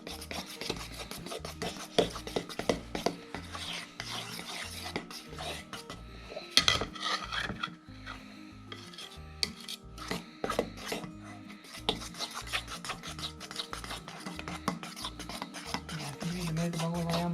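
Blueberry pancake batter is stirred in a bowl, with a steady run of rasping, scraping strokes and occasional utensil clinks against the bowl, close and continuous without talk.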